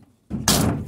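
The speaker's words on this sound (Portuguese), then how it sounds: "olha como fecha bem as portas" The door of a Volkswagen Kombi van is pushed shut with a single solid, close slam and a short resonant thud.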